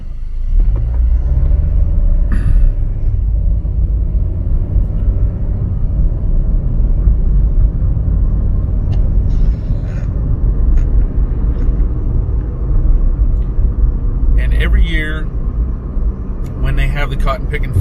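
A car drives through the small town of Gay, Georgia, during a busy fair, with a steady low engine and road rumble throughout and brief higher noises near the end, under someone talking.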